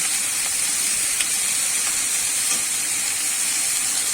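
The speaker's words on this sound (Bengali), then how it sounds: "আমি ঝিঙেটা একটু ভেজে নেব" Steady sizzling and hissing of ridge gourd frying in hot oil, continuous and close, with no talking.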